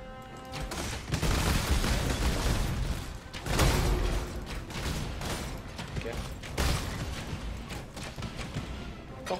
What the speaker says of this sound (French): Forte explosion, peut-être bien